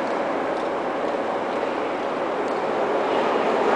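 A Saint Petersburg metro train runs with a steady, loud broadband rumble and rushing noise throughout, no voices.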